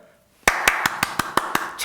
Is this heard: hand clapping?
yes